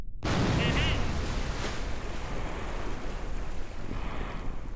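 In the Kerbal Space Program video game, a spaceship lands in water with a sudden loud splash, followed by a steady rushing roar of water and wind that lasts to the end.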